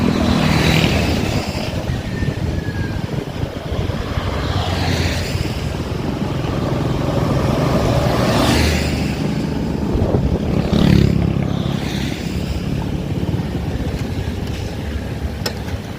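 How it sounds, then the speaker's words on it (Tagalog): Dense, steady roar of heavy traffic crawling along Andaya highway, continuous engine rumble and tire noise with swells as vehicles pass close by, no voices. "Napakahaba ng traffic."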